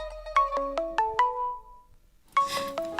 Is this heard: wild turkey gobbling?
no